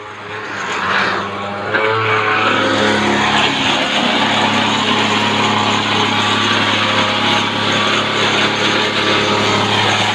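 A weed whacker string trimmer revs up after a quieter start and then runs loudly and steadily with a high buzzing engine drone, close by and with no talking.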